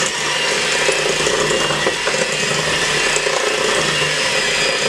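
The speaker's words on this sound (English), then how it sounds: "I'm going to cream all this together" Electric mixer creaming butter and sugar for a blueberry pound cake batter: a steady, loud motor whir with faint ratcheting texture runs unbroken throughout, with no talking.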